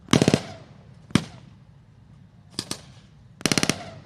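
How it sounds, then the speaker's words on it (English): Bursts of Bren light machine gun fire at a tank reenactment weekend rattle out in sharp, loud volleys: a rapid burst, a single shot, a short pair, then another rapid burst, with quiet outdoor gaps between. "Charging forward the Bren gun. Doing a 3 to 5 second rush where the Bren gun is a little annoying."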